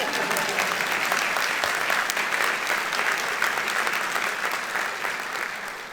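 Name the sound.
audience applause at doctoral hooding ceremony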